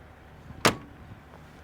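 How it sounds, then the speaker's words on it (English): A single sharp slam as the door of a 1966 Chevrolet Corvette is shut, one brief close thud with a short rattle, then quiet. "We can close the door all the way"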